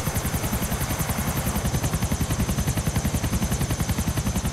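A military helicopter in the video game GTA 4 flies close by, its rotor beating in a fast, steady rhythmic chop over a constant engine whine, loud and unbroken with no talk.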